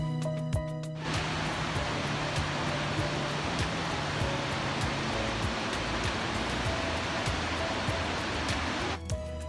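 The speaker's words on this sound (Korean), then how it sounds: "100개가 넘는 크고 작은 폭포가 있다." Waterfalls at Plitvice Lakes in Croatia, a dense, steady roar of falling water that fills the scene at even loudness for several seconds before cutting off, with a faint tonal hum at the edges.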